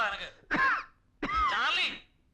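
A man coughs in two harsh, raspy bursts with a short gap between them, close and loud, in a hungover morning scene.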